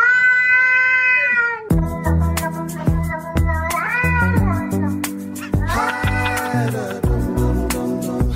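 A cat makes a loud, close warbling meow at the start. Layered musical tones and beats then come in, and the meow seems to carry on through them.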